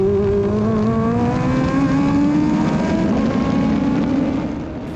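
A ground-effects single-seater race car with wings and slicks drives at speed, its loud engine note holding steady with rising harmonics through gear pulls before easing off at the end.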